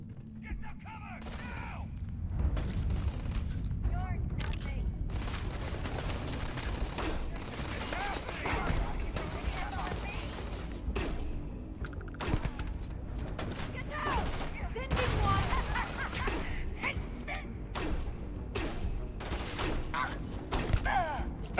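Gunfire from a firearm in the space game Starfield at an industrial site, sustained bursts of shots layered over a busy background of game effects and some voices, fairly steady in level throughout.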